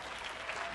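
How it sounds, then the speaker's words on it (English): Audience clapping at a university public health school lecture event, a steady even wash of applause lasting under a second, moderately quiet and with no voices over it. "I hope you're clapping for this school."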